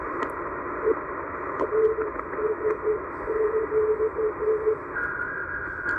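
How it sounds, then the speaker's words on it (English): Faint Morse code tones on a shortwave radio around 12648 kHz beep in short and long bursts over radio static, with a second steady tone near the end. "if you can identify the Morse code and where the station is originating from"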